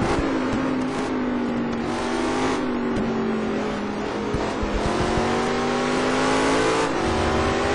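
Race cars lap Anderstorp in a racing video game, their engines revving loudly and steadily with shifting pitch as throttle lifts and builds, other cars droning close by.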